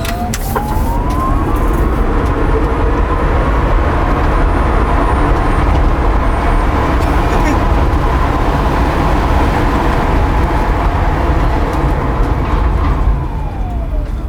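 EVT S1 electric sports car accelerating along a road, a steady broad whirring drive and road noise with a rising tone sweeping up, close and loud throughout, no talk.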